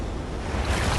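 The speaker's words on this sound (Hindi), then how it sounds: "ये आई बड़ी लहर।" Large ocean waves roll in and break close by with a loud, continuous rushing wash mixed with wind noise, and no voices are heard.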